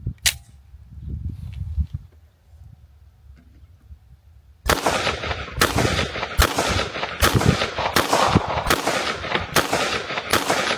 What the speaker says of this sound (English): first up we'll do the regular Glock 19